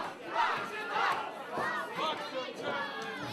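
A wrestling crowd at an NWA North American Championship match jeers Byron Wilcott, a sustained wash of shouting voices rising and falling in waves throughout.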